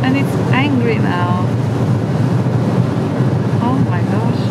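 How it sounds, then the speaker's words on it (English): Heavy wind buffets the microphone in rainy Iceland, a loud, constant roaring rush with a voice speaking over it now and then. "So rainy, and it's angry now."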